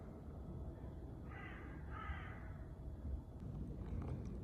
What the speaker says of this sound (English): I found one little bird.